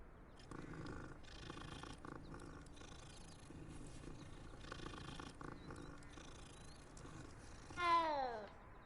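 A cat in the Hogwarts Legacy video game purrs in a low, steady, continuous rumble at moderate volume, ending with a short rising chirp or meow near the end.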